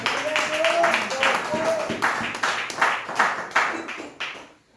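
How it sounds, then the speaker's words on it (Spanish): A church congregation claps in rhythmic bursts during a worship service, the applause loud and close with voices speaking over it before it fades out at the end. "Aplaude la gloria de Dios y levántate un poquito"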